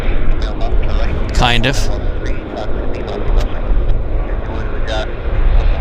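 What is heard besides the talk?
Central Mountain Air propliner charter aircraft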